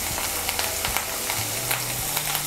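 Ginger, garlic and green chili pastes being fried and stirred into onion paste for a Bengali doi katla curry, giving a steady close sizzle with scraping stir strokes throughout.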